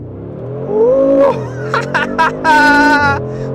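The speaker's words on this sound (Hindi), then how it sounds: "जो फर्स्ट एक्सेलरेट करते हैं, foot on the break, right foot on the accelerate, हल्का सा ब्रेक बूस्ट" A 2023 Mercedes-Benz G 63 AMG with a 577-horsepower twin-turbo V8 revs loudly up close, its pitch climbing and then dropping back, followed by sharp, stuttering bursts of engine roar.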